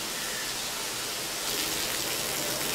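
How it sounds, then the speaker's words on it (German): Steady rain in the Solomon Islands, a dense, even hiss of falling water with no distinct drops, brightening slightly partway through and heard alone without voices. "Es regnet viel auf den Salomonen."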